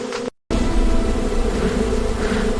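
Honeybees swarm around a hive while defending it against a raiding honey badger, producing a loud, dense buzzing drone that cuts out for a moment near the start and then resumes steadily.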